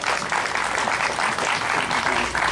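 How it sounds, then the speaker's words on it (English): Sustained crowd applause fills a political campaign rally in Monroe, steady dense clapping without a break, loud and close throughout. "Hey, big round of applause, please. Come on, you can make more noise."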